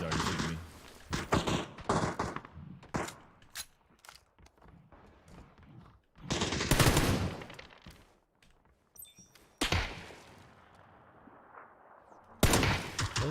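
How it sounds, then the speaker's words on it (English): Gunfire in PUBG aimed at the player, with several sharp bursts and single cracks separated by short gaps, loud and close, and an excited voice talking between the shots. "This dude's already shooting me."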